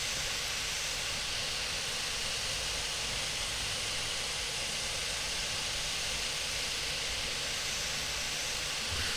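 A steam locomotive in the train simulator game Derail Valley blows off hot steam, a loud, broad, unbroken hiss filling the whole stretch without pause, no voices present.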